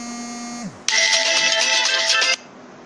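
A phone rings loudly in steady electronic bursts for about a second and a half, close by, then stops abruptly, following a brief fading tone.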